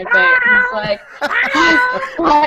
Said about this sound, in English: Sorry about the random cat noises